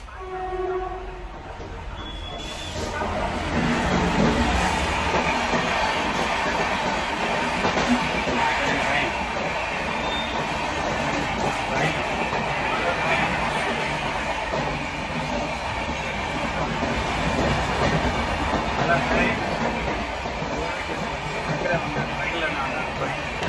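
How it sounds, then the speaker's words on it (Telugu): A MEMU express train departing Nellore toward Chennai rumbles steadily with rattling wagons and rail noise throughout, heard from inside, with a high whine above and voices faintly at times. "ఇప్పుడే మన ట్రైన్ అయితే నెల్లూరు నుండి అయితే స్టార్ట్ అయిపోయింది"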